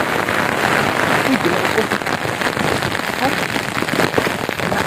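Rain falls steadily and loudly outdoors as a dense, even hiss of drops hitting surfaces, with faint voices underneath.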